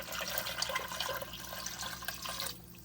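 Four cups of water poured into a soup pot with chicken bouillon cubes, a rushing steady splash for over two seconds that cuts off abruptly, close and moderately loud.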